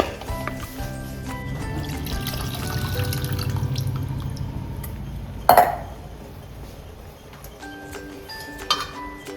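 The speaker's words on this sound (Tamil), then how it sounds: "மீன் மூழ்கிற அளவுக்கு நம்ம தண்ணி சேர்த்துக்கலாம்." Water pours steadily into a pot of fish curry with a liquid splashing wash, broken midway by a sharp metallic clank, then quieter kitchen clatter.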